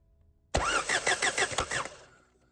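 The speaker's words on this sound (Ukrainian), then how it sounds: "Крутиться все гарно у нас, значить стартер працює." A Renault 1.5 dCi starter motor cranks the engine with a rhythmic whirring churn for about a second and a half, then cuts off, loud and close.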